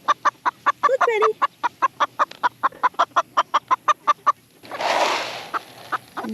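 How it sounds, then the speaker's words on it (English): A small bantam hen clucking in a quick, regular series of short notes close up, followed by a brief rustling burst. "poor little Betty, she's a bantam"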